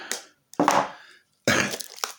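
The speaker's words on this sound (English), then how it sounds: "I've got the most blunt pair of scissors I could find." Blunt scissors slicing through Kapton heat-proof tape used for wrapping 18650 battery cells, heard as three close, crisp, crunchy snips with short silent gaps between them.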